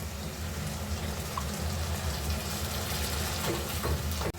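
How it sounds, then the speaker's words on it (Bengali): Water is poured steadily into a pan of sautéed chickpeas cooking on the stove for an iftar snack, a continuous rushing pour heard close up with no talk. "এখন আমি পরিমাণ মতো পানি অ্যাড করে দেব"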